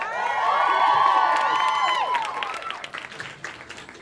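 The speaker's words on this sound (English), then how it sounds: "but how about a round of applause?" Studio audience applauds and cheers for the Scandal cast, a dense wash of clapping with whoops that builds, holds for about two seconds, then thins out into scattered claps.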